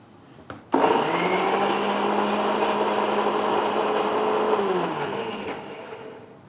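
Electric blender pureeing a cut tomato into a juice-like pulp for a Kerala-style paneer dish, a loud steady motor whine starting abruptly and running for several seconds before winding down.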